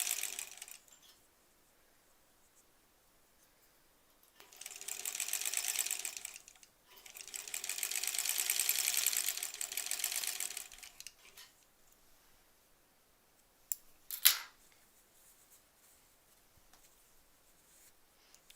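A sewing machine stitches a granny squares quilt in two sustained runs of fast whirring, the second longer than the first. Quiet gaps separate the runs, and a sharp click or snip follows near the end.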